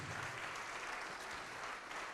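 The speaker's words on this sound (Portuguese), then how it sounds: "Vamos aplaudir mais ao nome de Jesus." A congregation applauds the name of Jesus at a church service, with steady, even clapping from many hands heard faintly and at a distance throughout.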